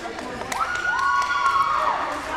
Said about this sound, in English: Another good crowd going in here.